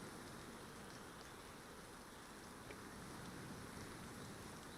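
Heavy rain falls by the sea, a dense, steady hiss of downpour and surf filling the whole stretch at an even, fairly quiet level with no voices.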